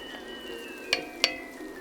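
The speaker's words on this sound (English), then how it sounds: "That's going to sizzle for a little bit." Chopped onions frying in a pan for dinuguan, a soft steady sizzle with two sharp clinks of a utensil against the pan partway through.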